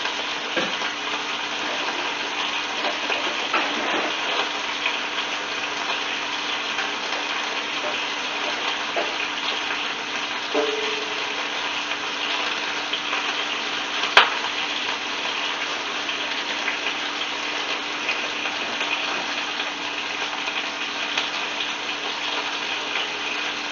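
Metal tongs being rinsed under a steady stream of running tap water, an even close gush lasting throughout with a few faint clinks and one sharp knock partway through.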